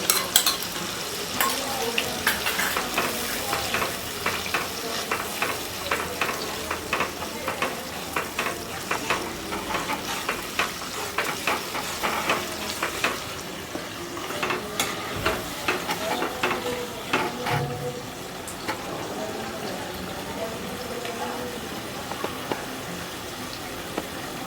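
Fish frying in plenty of oil with a mustard-powder paste, stirred in a home kitchen: steady crackling sizzle with repeated scraping clinks of the stirring utensil, close and continuous throughout.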